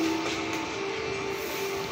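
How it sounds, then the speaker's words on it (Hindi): The Saharsa–Amritsar Garib Rath Express pulls into platform 2 behind an electric engine at an Indian Railways station, a continuous rolling rumble with a faint steady tonal whine from the wheels, no voices heard. "सरसा अमृतसर गरीब रथ, जो कि एक इलेक्ट्रिक इंजन के साथ प्लेटफॉर्म नंबर 2 पे अराइव हो गई है।"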